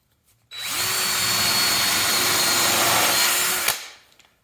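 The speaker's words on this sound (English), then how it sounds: "we're going to put some screws in here" A power driver whines steadily for about three seconds while driving screws into the wooden stems of a strip-built kayak kit, loud and close, then cuts off sharply, with no voices.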